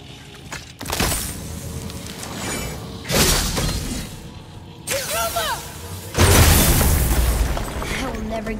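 Objects shatter repeatedly in God of War (2018) on PS5, with loud, sharp breaking bursts at intervals, the heaviest near the end, over a low game soundscape, while a voice talks between impacts.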